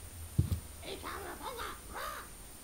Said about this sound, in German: Netter Papagei.